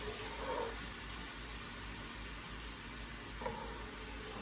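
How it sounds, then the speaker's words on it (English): A pan deglazed with dry white wine hisses with a steady, even sizzle, faint and continuous with no talking. "You need to use a dry white wine and kind of deglaze the pan"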